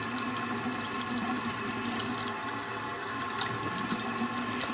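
Tap water runs steadily into a sink while makeup brushes are rinsed, a constant close splashing hiss with no talking.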